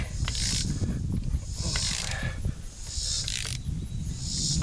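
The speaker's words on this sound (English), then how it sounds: "I don't even know if I have to have the wrench on there." A ratchet wrench turning bolts on the front end of a 1973-76 Mopar A-body car under rebuild, giving several close, rapid clicking bursts separated by short pauses over a steady background hum.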